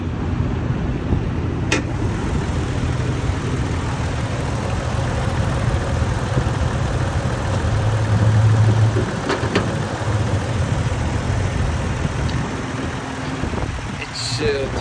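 A 3.5 liter engine in a 2020 Toyota Tacoma 4x4 idles with a steady, even hum at moderate volume, close and continuous throughout.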